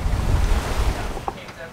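Strong wind and rushing waves surround a 36-foot Beneteau sailing fast across the Atlantic with about 22 knots of northeasterly wind astern, a loud continuous roar of surf and wind buffeting the microphone.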